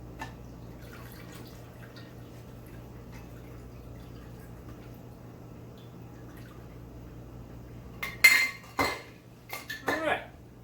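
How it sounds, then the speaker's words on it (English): Eden Mill gin French Gimlet poured through a strainer into a glass, with a faint trickle of liquid and several sharp clinks of metal and glass near the end over a quiet room. "We're going to strain that up."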